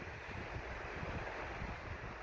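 Ocean waves at a roadside beach in New Zealand at low tide under cloudy skies, a steady broad wash of surf mixed with wind rumble, continuous and moderately distant with no voices.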